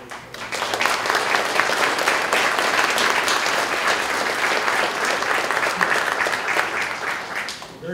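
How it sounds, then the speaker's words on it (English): Audience at a senior center gives city staff a warm round of applause, dense steady clapping that swells quickly and holds for several seconds before easing off, with faint voices mixed in. "you need to give them a round of applause."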